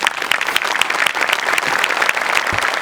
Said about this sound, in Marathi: एकदा जोरदार टाळ्या माझ्यासाठी झाल्या पाहिजेत.